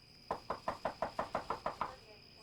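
Police pound on a door with about ten firm, evenly spaced knocks, loud and close, over a faint steady background whine with no voices.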